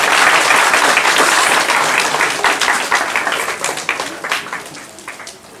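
Applause from a gathered audience at a sub-prefecture assembly, loud dense clapping that gradually thins toward scattered individual claps over about five seconds.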